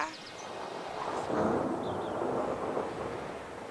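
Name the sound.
wind of an approaching storm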